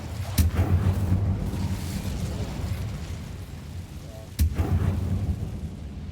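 Two sharp fiery blasts from the Incendium fire spell in Hogwarts Legacy, a few seconds apart, each a sudden booming burst that trails into a crackling, roaring rumble.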